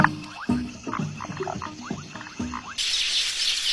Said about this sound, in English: It's been a long night for the foam frogs